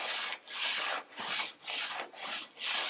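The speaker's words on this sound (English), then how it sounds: "You should be filing the surface down, not just scratching it." A metal body file rasps across the surface of a VW Beetle door in six long, even strokes, each a loud, close scraping pass separated by brief pauses, with no voices.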